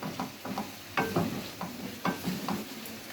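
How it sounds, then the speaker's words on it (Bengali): Shrimp fries in spice masala in a pan as a utensil stirs and scrapes it, with soft sizzling and irregular scraping strokes close up, no voices. "ভালো করে মাছটা কষিয়ে নিতে হবে মশলার মধ্যে।"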